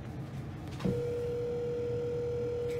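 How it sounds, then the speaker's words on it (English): A steady telephone call tone sounds through a phone while calling Camping World about a lost faucet, starting suddenly after a click and holding continuously to the end. "Joey's trying to call Camping World"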